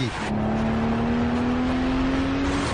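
A Mercedes SL 65 AMG (R230) engine holds a steady, deep drone with a sustained tonal hum, loud and close throughout, without obvious revving peaks.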